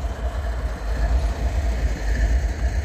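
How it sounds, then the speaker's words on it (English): A train sits at Abbeville, its locomotive engine idling with a deep, steady low rumble and faint mechanical hum, continuous and moderately close with no talk over it. "we got a train sitting in Abbeville"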